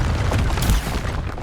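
Confringo fire-blast spell cast in the Hogwarts Legacy video game: one dense, loud, booming explosive burst that fills the whole moment, with a heavy low thump partway through and no talking.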